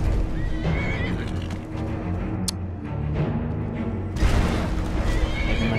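Horse in the video game Skyrim neighing loudly, with clip-clop hooves and game ambience running underneath throughout.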